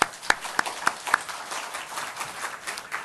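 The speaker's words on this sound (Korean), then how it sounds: "우리 하나님께 영광의 박수 드립시다." A church congregation applauds: a few sharp, distinct claps ring out at first, then many hands join into a softer, continuous round of clapping from a moderate distance.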